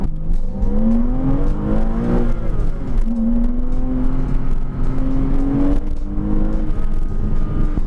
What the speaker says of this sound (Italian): Ogni volta che sfioro il piede sul gas inizio a sentire subito questo crescendo di potenza